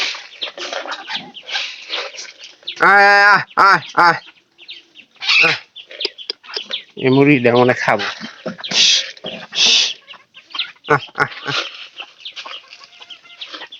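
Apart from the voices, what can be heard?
chickens clucking while being fed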